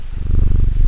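A cat purrs steadily in the video game Strange Antiquities, a close, loud, continuous low rumble with a regular pulsing rhythm and no talk over it.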